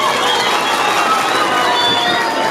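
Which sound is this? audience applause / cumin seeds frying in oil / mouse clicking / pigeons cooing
audience applause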